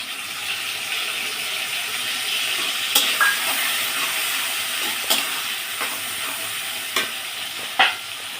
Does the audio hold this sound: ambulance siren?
no